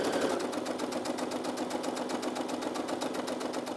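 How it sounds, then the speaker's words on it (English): Steady, rapid rhythmic stitching of a sewing machine running continuously while sewing the elastic casing of a satin-lined bonnet, close and even throughout. "we're going to sew the entire 360-degree circle until we reach our starting point"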